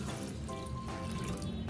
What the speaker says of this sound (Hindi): इसमें हम पानी डाल रहे हैं